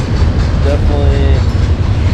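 A long train rolls past a railfan spot near Horseshoe Curve, a loud continuous rumble with faint wheel squeal, close by and steady, while a voice talks briefly over it.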